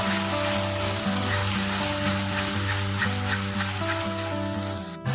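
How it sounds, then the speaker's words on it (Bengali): Onion paste sizzles steadily in hot oil for a Bengali katla fish kalia, a dense continuous frying hiss with faint stirring throughout. "এবার আমি এটাকে খুব ভালো করে কষিয়ে নেব"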